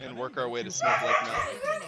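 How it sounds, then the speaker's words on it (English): A medium-sized mutt with some hound in him and Rottweiler coloring barks and yips nearby in short bursts, mixed in with someone talking over a racing game. "Yeah, that's my dog."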